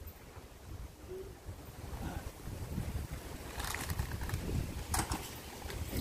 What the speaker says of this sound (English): Oh, you guys brought the wind.